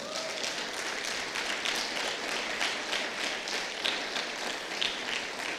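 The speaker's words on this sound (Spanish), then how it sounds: "¿Cuántos le dan un aplauso al Señor?" A church congregation applauding during a worship service, with steady, moderately loud clapping throughout.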